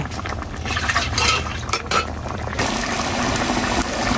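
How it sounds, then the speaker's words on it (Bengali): Tomato chutney being tempered in a hot pan, with a spoon stirring and clinking against the pan over a loud, broad sizzle that grows steadier partway through, close up. "হয়ে গেছে, টমেটো বাগার দিয়েছি"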